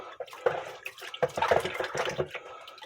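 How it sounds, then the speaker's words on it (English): Splashing and swishing water as a small cuckoo clock movement, fresh from a homemade cleaning solution, is rinsed in a container, with irregular sloshes and drips close by. "I rinse it off in water"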